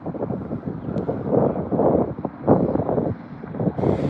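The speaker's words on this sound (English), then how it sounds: "Wind is definitely picking up for sure." Gusty wind roars across the microphone outdoors on a fishing outing, in uneven surges, a loud rumbling buffeting with no voices.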